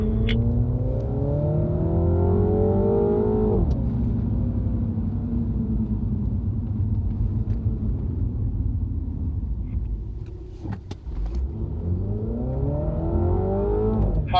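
A MINI John Cooper Works on a race track, its engine revving up loud and close, easing off, then droning steadily before a brief dip and another rising acceleration toward the end.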